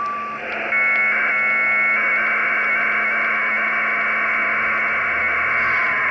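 An amateur radio HF modem transmits data with direct RF generation, a loud steady multi-tone warbling data signal after a short lead-in tone, running continuously with no voice.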